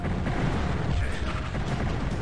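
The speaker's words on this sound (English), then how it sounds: "The Phoenix Rod also has a new explosion sound too, which is very nice to listen to" A Phoenix Rod explosion from the video game Heretic, a loud, dense, sustained rumbling boom with no talk over it.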